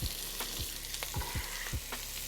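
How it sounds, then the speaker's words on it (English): Chopped vegetables hitting hot sausage and bacon fat in a pot for smothered green beans, a loud, dense, continuous sizzle with a few stirring scrapes and knocks, close up and without speech. "once the sausage and the bacon is nice and golden brown and crispy, in go the veggies"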